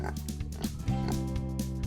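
Pigs in a concrete pen behind a double fence grunt and oink in short, low snorts, several close calls following one another over a steady background rumble.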